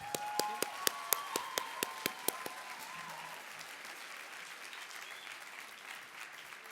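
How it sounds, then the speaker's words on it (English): At a conference plenary session, a few crisp, evenly spaced claps ring out close by, then fade into a softer, more diffuse patter of audience applause that trails away behind faint room noise. "I now clap in honor of all of you."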